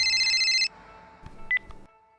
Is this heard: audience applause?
no